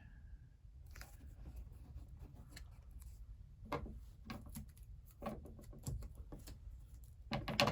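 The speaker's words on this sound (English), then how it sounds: "And let's go ahead and trim." Scissors trim craft paper for a tween infinity cube project in a series of short, close, quiet snips and crisp cuts spaced over several seconds, with light paper rustle between them.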